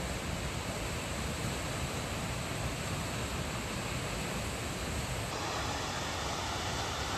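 The waterfall at Silver Falls state park in Oregon roars as a dense, constant hiss of falling water, steady and moderately loud throughout with no talking.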